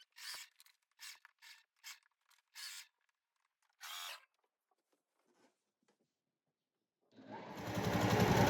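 A sewing machine stitches the facing seam with a 1 cm allowance. Several short bursts of close mechanical clatter are separated by pauses, then a steady, louder run of stitching starts near the end.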